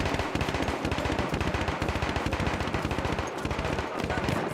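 Rapid automatic gunfire in the video game Battlefield 1, a dense, loud, continuous burst of shots rattling steadily throughout.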